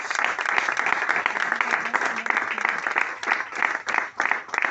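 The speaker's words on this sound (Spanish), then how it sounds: "Den un aplauso a Dios, iglesia." Church congregation applauding during a sermon, a dense, continuous round of clapping with uneven swells and a few sharper bursts, with faint voices mixed in.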